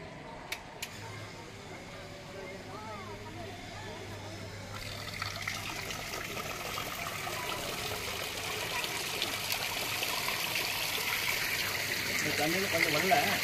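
Inside a newly finished home, water begins flowing from overhead, a soft trickle swelling into a louder, steadier splashing hiss, while voices can be heard faintly early on.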